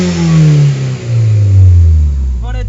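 A 1997 Toyota Celica GT4 ST205 engine revs up loudly and close, the pitch climbing, easing off and climbing again in two pulls before settling back.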